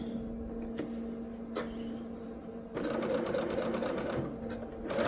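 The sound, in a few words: serger sewing and cutting fabric with knife engaged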